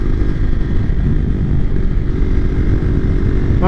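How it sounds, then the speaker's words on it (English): A 2020 KTM RC390 motorcycle fitted with an Austin Racing exhaust rides along the road with a loud, continuous, gritty engine roar and rushing wind noise, heard close, with no talking. "we're out here on the road with the Austin Racing exhaust installed"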